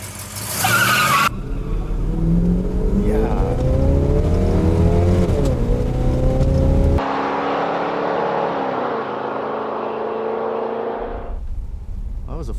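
A stock 1970 Chevelle LS6 with 3.31 gears roars hard down a drag strip. Loud engine revving and rising gear changes are heard up close, with a brief tire screech at the launch and the engine note fading away toward the end.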